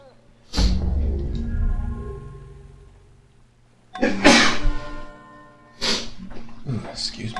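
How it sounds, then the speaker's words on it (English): A sneeze bursts out loudly and close during a strategy game commentary, followed by a couple more quick sneezing or snorting blasts, with someone talking in between. "just had to sneeze there"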